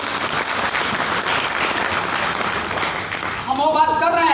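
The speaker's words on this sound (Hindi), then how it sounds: "कितने लोगों को अगर समझ में आया तो जोरदार ताली होनी चाहिए" Steady applause from an audience at a real estate company presentation fills the clip, ending as a voice begins speaking.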